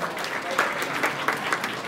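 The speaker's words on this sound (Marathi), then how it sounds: "सर्व विद्यार्थ्यांसाठी जोरदार टाळ्या वाजवायच्या आहे" Students and guests at an academy's Ganeshotsav Traditional Day event give loud applause, a full, steady roar of many hands clapping at once from a sizeable crowd, continuous throughout with no gaps.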